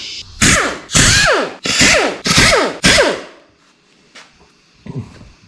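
Five loud, close bursts of an impact wrench spinning out main cap side bolts on a hydrolocked 6.0L LS engine, each whirring burst winding down, followed by a few faint clinks and a final short buzz.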